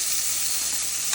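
Cashews fry in a steel pan, giving a steady, close, bright sizzle that holds evenly throughout with no talking.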